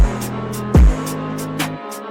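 Drill beat pre-bridge section with a deep 808 slide dropping in, stuttering hi-hat-like bursts and a brass-type stutter build-up, ending abruptly into near silence; loud, produced music with no talk.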